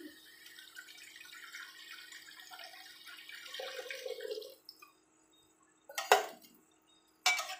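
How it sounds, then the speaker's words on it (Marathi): Water poured into a pot of cooking chicken biryani, a steady faint splash and trickle for several seconds, followed by a few sharp clinks of metal utensils. "पाणी टाकणार आहोत."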